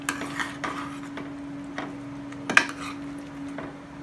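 Spoon scraping and knocking around inside a pot of avial vegetable curry, a few irregular stirring strokes with one sharper clink, over a steady low hum.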